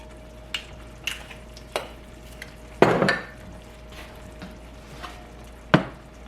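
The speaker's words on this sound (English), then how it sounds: "putting the bok choy and shallots on the stovetop. I'm gonna add just a little bit of olive oil" Bok choy and shallots sizzle in olive oil in a pan on a stovetop under a quiet, steady fry, with scattered clinks and scrapes of a utensil and one louder clattering stir.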